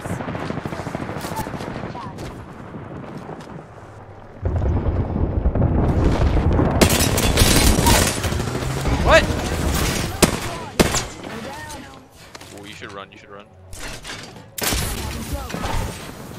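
Airstrike explosions and rapid gunfire in the Apex Legends video game, with loud sustained bursts and booms that come in waves and drop out briefly, while a player talks over parts of it.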